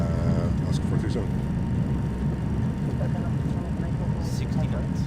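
Loud, steady roar of reverse thrust from the rear-mounted engines of a Leonardo MaddogX airliner after landing in Microsoft Flight Simulator, sustained broadband rumble throughout with radio chatter and voices over it.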